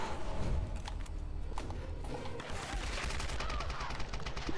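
Loud bursts of rapid gunfire in the action game Tomb Raider, with repeated sharp shots and short pauses running through the whole stretch and a faint voice underneath.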